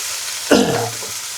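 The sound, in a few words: red wine added to hot pan, sizzling while deglazing beef stew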